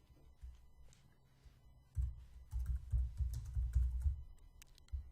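Keys on a computer keyboard clatter in a quick, irregular run of close taps as HTML code is typed, starting quietly and getting busier after a short pause.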